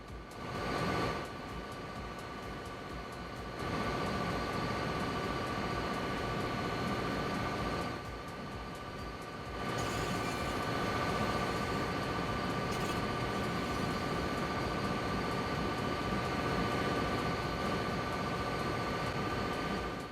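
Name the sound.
train running over tracks in video game DayZ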